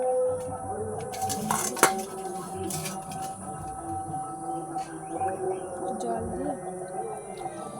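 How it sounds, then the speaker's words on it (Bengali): Shiuli (night jasmine) leaves being ground into a paste: repeated scraping and squeaky grinding strokes with occasional sharp clinks and knocks, close and fairly steady, with a voice faintly present at times. "এবার শিউলি পাতাগুলো বেটে নেব ভালো করে"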